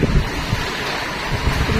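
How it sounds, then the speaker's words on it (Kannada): A strong wind blows during the year's first rain, making a steady, loud broadband roar with gusty swells and no voices. "ಅಷ್ಟು ಗಾಳಿ ಜೋರು ಬೀಸ್ತಾ ಇದೆ"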